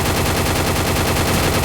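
Rapid automatic gunfire from the video game Counter-Strike plays as a dense, loud, continuous burst of shots with no pauses.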